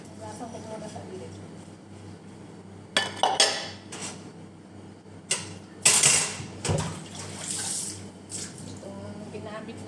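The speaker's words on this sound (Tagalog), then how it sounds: "Magugas muna ako ng ayan, plato po na ginamit ko po sa pagluluto." Someone washes a plate used for cooking at a sink. Water runs under several sharp clatters of dishes and utensils knocking together, close and moderately loud, and a person speaks over the washing.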